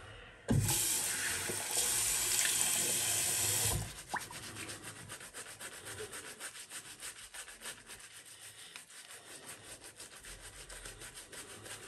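Water from a tap runs loudly onto shaving lather for about three seconds, then stops, leaving close, soft brushing and wet rubbing sounds of a shaving brush working the lather.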